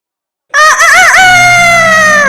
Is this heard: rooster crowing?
yes